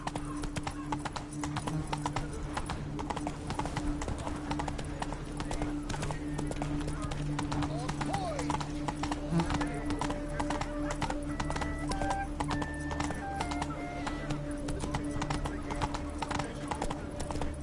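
Horse hooves clip-clop steadily at a gallop in The Witcher 3, a continuous rapid rhythm close by, with a brief neigh and game music tones underneath.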